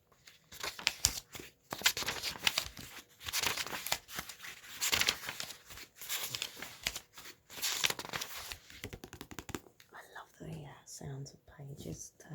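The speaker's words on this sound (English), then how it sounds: "Sounds of pages turning." Paper pages of a book turn and rustle softly in a close, quiet series of crinkling flips, with whispering throughout.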